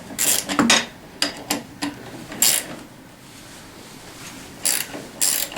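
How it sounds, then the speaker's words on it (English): A hand ratchet clicks in short, close bursts while tightening a bolt during assembly of a Tao Tao CY50A 50cc scooter, with brief pauses between strokes in a quiet workspace. "go ahead and just tighten it down. So a 15 millimeter and 11/16"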